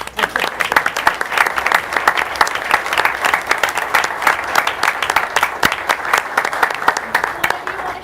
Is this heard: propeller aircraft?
no